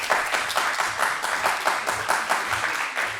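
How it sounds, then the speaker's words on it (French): An audience at a French student debate quarterfinal held at HEC applauds both teams with sustained, fairly dense clapping that stays at an even level throughout. "On peut les applaudir encore une fois."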